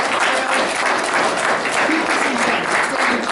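Audience applause at a comedy convention's adult dating-advice auction, a dense, steady clapping from a crowd that fills the whole stretch without pause.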